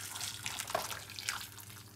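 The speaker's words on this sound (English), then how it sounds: "We're going to pour some hot water" Hot water poured from a cooker pot over frozen vegetables in a kitchen, a steady close splashing and trickling stream that runs without pause for about two seconds, no voices.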